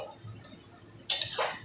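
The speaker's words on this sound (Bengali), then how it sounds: "এবার ঢাকাটা খুলছি।" Cooking pot lid lifted off a simmering pumpkin curry, a brief metallic clink and scrape near the end of an otherwise quiet moment.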